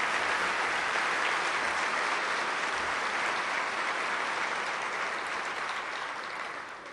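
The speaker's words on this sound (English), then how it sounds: "How about a nice round of applause for all our past presidents?" Conference audience applause for past presidents during a keynote in Las Vegas, a broad, even roar of many hands clapping at once, sustained and gently tapering near the end, with no speech.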